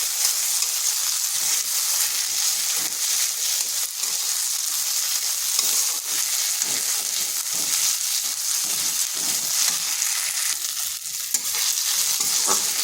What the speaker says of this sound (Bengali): একটু ভেজে নিচ্ছি আদা রসুনের কাঁচা গন্ধটা যাতে চলে যায়